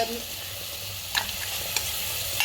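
Ground tomato-cashew paste frying in a pan with a steady loud sizzle, broken by a few scraping stirs of a spoon, close up.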